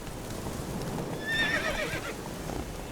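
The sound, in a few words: horse named Roach neighing and clip-clopping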